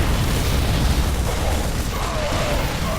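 A bunker being destroyed in a StarCraft II 4v4 match, with dense, continuous booming explosions and bursts rumbling heavily throughout, loud and unbroken.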